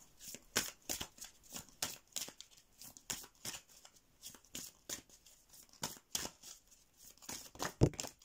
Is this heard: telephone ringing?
no